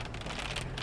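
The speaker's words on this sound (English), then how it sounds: "I hope the rain isn't too loud in my mic." Rain falling steadily outdoors, making a dense hiss that is close and continuous through a very short moment.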